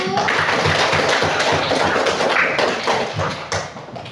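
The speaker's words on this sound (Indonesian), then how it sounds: "kita beri tepuk tangan untuk kelompok 1" A classroom of students claps loudly for a presenting group, producing irregular, close and busy slaps that stay strong before thinning out toward the end.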